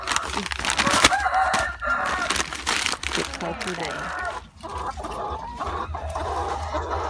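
Egg-laying hens cluck and squawk close by, with a rooster crowing in the mix, while a person talks over the noisy flock.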